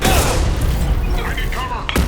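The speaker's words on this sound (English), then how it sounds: "Firing an impact shot!" Heavy impact shot from a biotic weapon in Mass Effect 2 on Insanity difficulty, a loud booming blast over continuous combat noise and scattered game voices.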